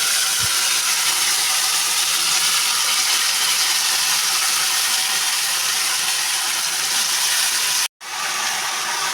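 Jujube pieces sizzle steadily in hot mustard oil with five-spice seeds in a wok, a dense, continuous hiss that holds for several seconds and breaks off briefly near the end.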